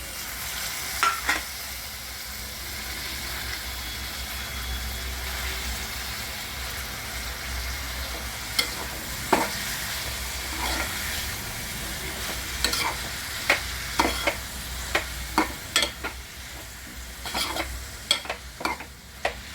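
Fenugreek leaves (methi) frying in hot oil in a pan: a steady close sizzle with scattered sharp scrapes of a spoon stirring, growing more frequent toward the end.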